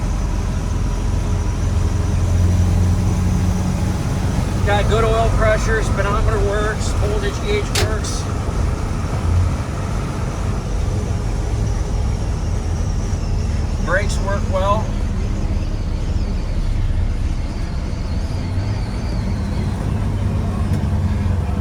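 A 1977 Ford F150 4x4 truck cruises down the road with a steady low engine and road hum throughout, while someone talks over it from inside the cab.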